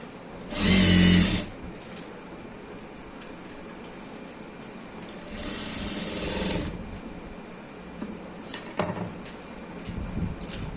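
A sewing machine stitching piping onto cloth runs in two loud, close bursts of rapid mechanical whirring, with a short pause and light handling clatter between them and no talking.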